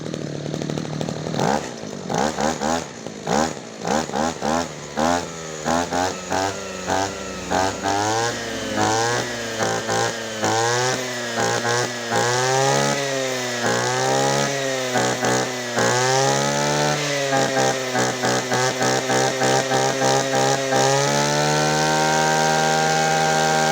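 A Robin NB2510 brush cutter with an upgraded multifunction throttle revs its small two-stroke engine, blipped in quick bursts at first, then held in long rising and falling whining revs before settling into a high steady drone, close and loud.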